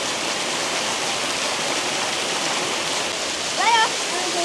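Corbett Falls waterfall in Kotabagh, a steady loud broadband rush of falling water filling the whole stretch, with a brief chirp near the end.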